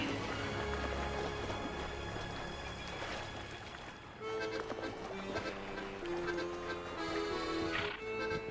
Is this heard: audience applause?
no